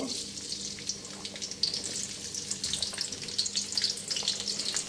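Chopped onions fry in hot oil in a heated kadai, cooked for a hilsa and cauliflower curry, making a steady bright hiss and crackle that holds close and even throughout.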